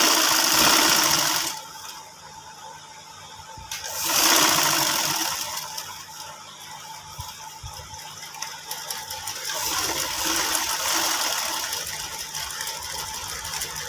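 A sewing machine stitches a gents' shirt cuff strip, running in steady loud bursts with brief pauses between passes and a continuous mechanical hum underneath; no talking.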